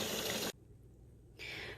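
Water pours into a tub for soaking washed Shetland wool, a steady broadband rush that cuts off halfway, leaving near silence before the flow resumes loudly.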